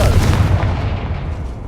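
Confringo blasting spell in Hogwarts Legacy: a loud, deep explosive boom with a rumbling tail that fades over a second or so, alone without talking.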